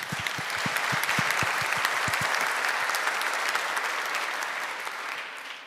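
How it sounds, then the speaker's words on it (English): An audience at a panel discussion claps for a helper, dense sustained applause filling the room with a few sharper claps early on, tapering slightly toward the end. "Round of applause for Arun."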